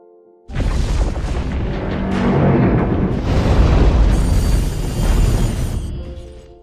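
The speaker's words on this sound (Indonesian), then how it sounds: "membuat stasiun luar angkasa meledak dan jatuh ke bumi" A sudden loud space station explosion in the film The Wandering Earth 2 erupts and rolls on into a sustained, roaring rumble of debris and blast noise, dense and powerful throughout.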